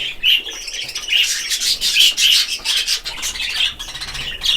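A lutino budgerigar squawks and chirps in a quick run of sharp, bright calls, close and fairly loud, with brief pauses between bursts and no talking.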